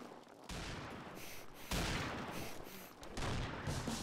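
Gunfire in the shooter game Combat Arms comes in dense bursts of rapid shots that start abruptly and surge louder in waves, a harsh crackling barrage with no talk.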